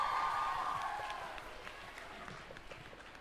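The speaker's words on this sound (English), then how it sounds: "Give her a big applause" An audience at an FMA India centenary celebration applauds for Mrs. Amanda, a brief burst of clapping and cheering that fades over a few seconds, heard from a distance in a large hall.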